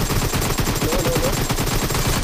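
Rapid automatic gunfire in a multiplayer shooter team deathmatch, a dense, loud, continuous burst of shots filling the entire moment with no voices.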